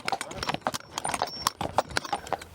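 A draft horse's hooves clip-clop steadily on a hard surface, close and loud, with snorting and an occasional whinny mixed in.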